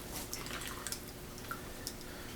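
Pottery glaze drips back into a ceramic bowl in a series of small, faint plinks over a steady hiss, irregular and close by, with no talk.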